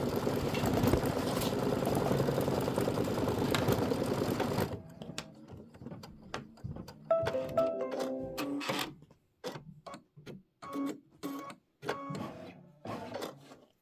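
A sewing machine stitches traditional machine appliqué on a quilt with a non-satin stitch, first in a steady continuous whir, then in short stop-start bursts with pauses between runs.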